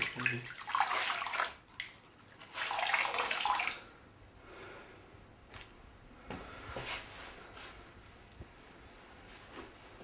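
Water runs in a bath while someone rinses off, with two louder bursts of splashing flow early on, then a quieter trickle and scattered drips; no talk is heard.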